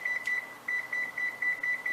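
Kitchen timer emitting a run of short high electronic beeps in a quick regular pattern with brief gaps, fairly faint over a quiet room.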